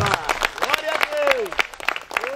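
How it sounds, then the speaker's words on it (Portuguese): A church congregation applauds with a quick run of claps while a preacher keeps talking loudly over it. "Aplaude o Senhor Jesus nesta tarde."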